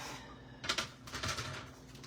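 A sheet of paper being cut to 2 1/4 inches for a Christmas card: two brief, soft scraping bursts, close and quiet, with no voice.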